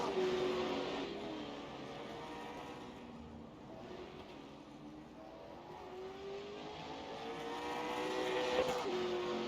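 Late model stock race cars roaring around a road course at Charlotte in a racing game, a steady engine drone with rising and falling pitch as the cars shift and pass, moderately faint with no talk.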